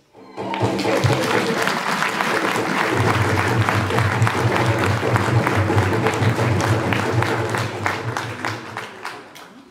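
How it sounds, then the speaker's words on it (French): An audience at a commemoration in Brussels gives a speaker a loud, sustained round of applause, thick clapping mixed with a low murmur of voices, swelling quickly and easing slightly toward the end. "je voudrais surtout que vous applaudissiez très fort Monsieur Deo Mouchaïdi"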